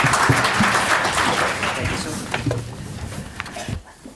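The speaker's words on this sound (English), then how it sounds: "everybody give a big round of applause to this panel" An audience gives a panel a round of applause at a talk on cannabis rules for employers, a full, steady burst of clapping that thins out and stops near the end, with a few voices underneath.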